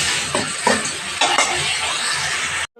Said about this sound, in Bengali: সবজিগুলো একটু নেড়ে ছেড়ে চাউলটা ঢেলে দিলাম।